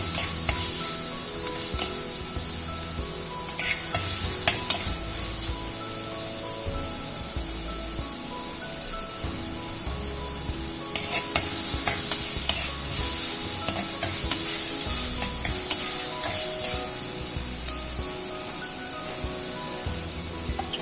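Chopped moringa drumstick pieces sautéing in a pan: a steady close sizzle broken by repeated scraping and stirring strokes, with no talk.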